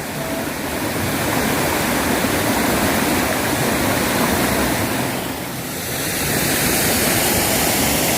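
A waterfall and stream over a wide gravel bed in a valley campground at Hongcheon make a loud, steady rushing roar of water that dips briefly before swelling again, with no voices.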